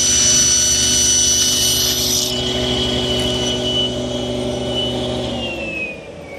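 A thickness planer feeding a wood blank for a writing case top and breadboard edges, a steady loud motor whine with cutter drone that dips slightly as the board passes through, no talk.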